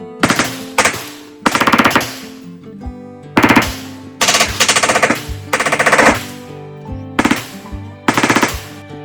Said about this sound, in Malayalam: പേയ്മെന്റ് ചെയ്ത് കഴിഞ്ഞാൽ AK-47 ഷൂട്ട് ചെയ്യാൻ പറ്റും